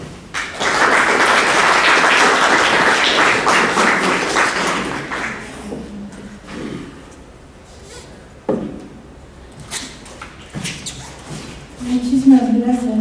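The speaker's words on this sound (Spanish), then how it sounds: "Recibamos pues a la doctora Tuzán con fuerte aplauso." Applause from a lecture audience greeting a visiting scholar, loud and dense for about five seconds before thinning into scattered claps, taps and shuffling in the hall, with a voice starting near the end.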